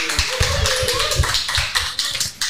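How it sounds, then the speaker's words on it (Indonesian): An audience at an Islamic lecture on money management claps in a dense patter of hand claps, near and fairly loud, lasting the whole moment with no talk over it. "tepuk tangan dong buat mereka"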